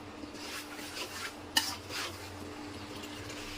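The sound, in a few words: stirring meat with spices in an old karahi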